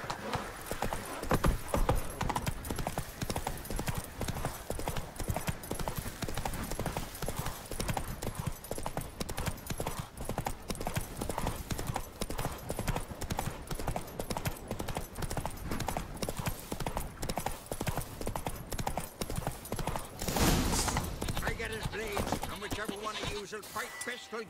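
Horse hooves gallop in The Witcher 3, a fast, steady clip-clop rhythm up close for the whole stretch, with a brief louder burst near the end and voices speaking over parts of it.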